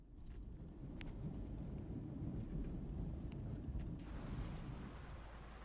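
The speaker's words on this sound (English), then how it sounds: "Can you hear the rain tapping?" Steady rain pours with a low thunder rumble beneath it in a storm scene from Microsoft Flight Simulator 2024, a dense continuous hiss with a few faint clicks and no talking.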